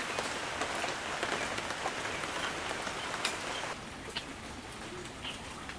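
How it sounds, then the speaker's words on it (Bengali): Rain begins falling around a rural village home on a heavy rain day, a steady broadband patter of drops that continues throughout, with a faint bird call and a slight drop in intensity near the end. "বৃষ্টি কিন্তু শুরু হয়ে গেছে"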